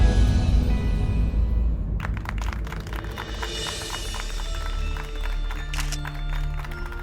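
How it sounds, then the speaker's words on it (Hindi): Applause breaks out at a police station in a Hindi TV drama, welcoming an officer back. Dense, steady clapping rises after a low rumbling opening and continues at moderate loudness to the end. "आप ही के लिए ताली बज रहा है।"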